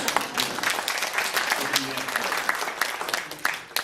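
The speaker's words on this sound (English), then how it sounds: "I think he deserves a good applause." Audience applause at a spirituality talk on stress management, a dense steady patter of many hands clapping at moderate volume, with faint voices underneath.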